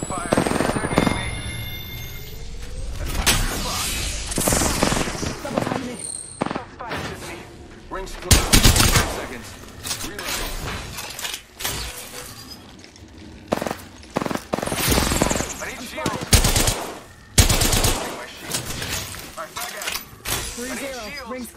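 Gunfire in the battle royale video game Apex Legends comes in repeated sharp bursts and single shots, loud and close, with brief gaps and clattering impacts throughout.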